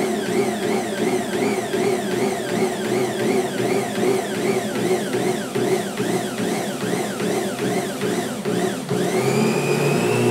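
An electric stand mixer runs steadily on its lowest setting, kneading oatmeal bread dough with a continuous whirring motor hum and a regular cyclic churning. It stays loud and close throughout, with a brief shift near the end.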